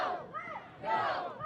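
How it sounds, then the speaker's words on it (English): A home crowd at a Cape Cod League baseball game, the Bourne Braves hosting the Hyannis Harbor Hawks, chants loudly in two rising swells of massed voices. "Braves crowd getting into it."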